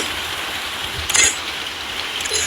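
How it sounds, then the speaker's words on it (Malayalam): Heavy rain falling steadily, a dense close hiss of drops on surfaces with a brief louder splash in the middle. "ഇവിടെ നന്നായിട്ട് മഴയുണ്ട്"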